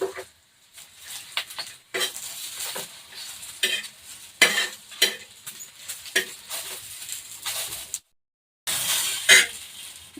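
Green chillies sautéing in a little oil in a pan while making Khandeshi-style chilli thecha, with intermittent stirring scrapes and light sizzling patter in short bursts and a brief silent gap near the end.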